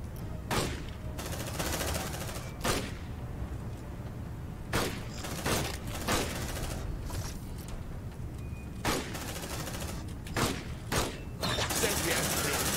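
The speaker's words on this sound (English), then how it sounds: "Deploying sentry gun." Sentry gun deploying in Aliens: Dark Descent, mechanical clanks and ratcheting mixed with bursts of gunfire, spread over several seconds, with voices talking over parts of it.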